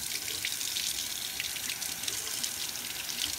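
Tap water runs steadily over a glass bottle while its label is peeled off, giving a continuous close splashing hiss.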